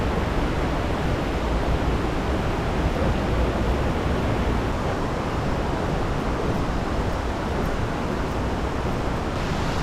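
Sekumpul Waterfall in Bali sends up a loud, broad, unbroken roar of rushing water that holds steady for the whole stretch, with no voices over it.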